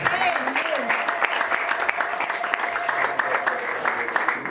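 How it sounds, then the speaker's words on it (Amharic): A church congregation claps and applauds at a faith service, a steady dense wash of hand claps lasting throughout, close and full, with some voices mixed in beneath the clapping. "እስቲ አጨብጭቡላቸው።"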